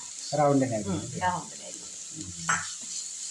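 Onions sautéing with salt in a frying pan give a steady, soft sizzle under a voice speaking clearly near the start, with a brief thump partway through.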